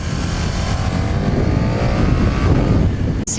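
A KTM Super Duke R motorcycle accelerating hard, its engine a loud, close, rising roar with climbing gear pitch, ending in an abrupt shift click.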